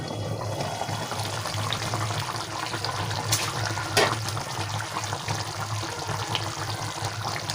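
Water being poured out of a cooking pot while preparing gutti vankaya kura, a steady splashing, trickling stream running continuously and close by with no voices.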